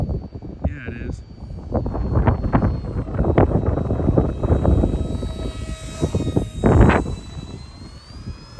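A small UMX F-86 model jet flies a slow pass into a strong headwind, its steady whine carried under heavy wind buffeting on the microphone while people talk nearby.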